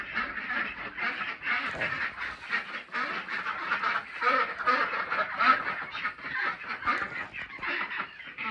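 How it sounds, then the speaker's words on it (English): A group of khaki ducks on a farm quacks continuously, a dense chorus of overlapping calls close by, with no speech. "We have ducks. They are called khaki ducks. Can you hear them?"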